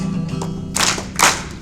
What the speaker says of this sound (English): we're gonna clap our hands